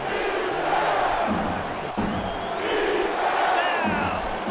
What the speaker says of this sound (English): Crowd once again rising to their feet.